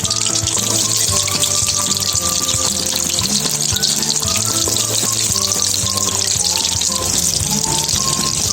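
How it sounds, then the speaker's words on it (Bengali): Chopped onion and garlic fry in hot oil with a loud, continuous crackling sizzle close by, over a faint tonal hum in the background. "আমার তেলটা গরম হয়ে এলে আমি পেঁয়াজ কুচি এবং রসুন কুচি দিয়ে দিব"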